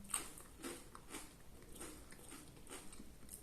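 Soft, close crunching and chewing of soup with crackers near the end of a bowl, with irregular quiet bites and spoon clicks repeating throughout at low volume.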